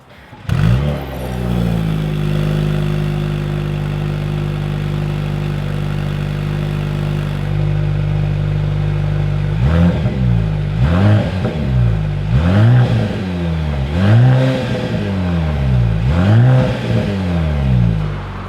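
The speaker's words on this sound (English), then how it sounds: "As always, here is that exhaust clip." A 2026 Mercedes-AMG GLC 43 first idles with a steady, deep exhaust burble, then gets a series of sharp throttle blips, each revving up and falling back in quick rhythmic repeats, loud and close.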